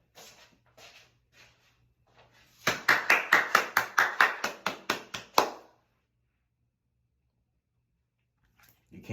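A small audience claps for a performer, a short burst of about a dozen quick, evenly spaced claps that is close and crisp before stopping into near silence.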